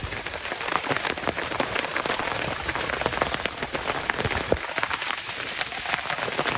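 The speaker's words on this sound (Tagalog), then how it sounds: "Tapos ngayon ay umuulan." Rain drums steadily on the roof of a temporary farm shelter, a dense, close patter of drops that stays even throughout, with no voices.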